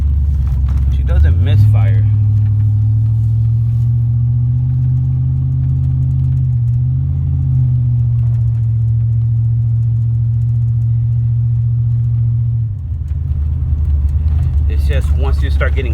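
A 2000 Chevy C3500 pickup truck engine runs at steady speed with a misfire, a continuous low droning hum that holds even for about eleven seconds and then drops near the end.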